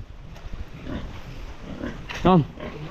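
Hungry pigs grunt at feeding time on a rice farm, with one clear, loud, rising call near the end over steady background noise while people talk and call out nearby.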